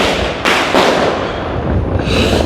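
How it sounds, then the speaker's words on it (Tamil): Firecrackers set off by young boys on a street in Chennai, heard as two sharp, close bangs early on over a dense, continuous roar of background noise and crackling. "இங்கே நின்று இந்த சின்ன பசங்க எல்லாம் வெடியெல்லாம் கொளுத்தி பண்ணிக்கிறாங்க."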